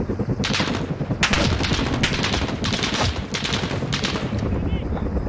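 Video game gunfire in a firefight, dense rapid bursts of automatic shots repeating in clusters over continuous loud action, with no voice clearly audible.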